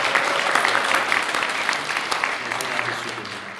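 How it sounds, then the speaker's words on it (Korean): A church congregation claps to welcome newcomers during a worship service: a steady, fairly loud round of applause from many hands filling the room and tapering slightly toward the end. "박수로 환영하겠습니다"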